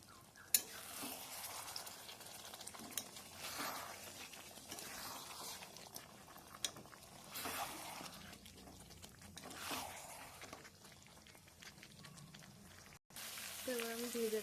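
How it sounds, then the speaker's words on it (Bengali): Chicken pieces being stir-fried down in a pan for a chicken curry: a continuous oily sizzle with repeated scraping stirs and occasional sharper clanks of the spatula, close and moderately loud, with no speech. "কষাচ্ছি এখন আমি। তো মাংসের কালারটা দেখো কত সুন্দর এসেছে"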